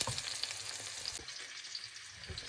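Onion and garlic sizzle and hiss in a pan while being sautéed, with soft stirring clatter. The frying is close and fairly quiet, and no one talks.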